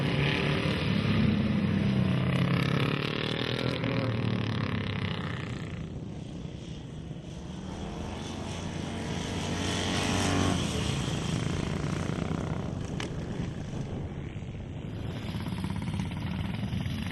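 A vintage Grindley Peerless motorcycle riding at Brooklands with only one weak brake, its engine a rough, steady drone that swells and fades as it passes, loud and continuous throughout.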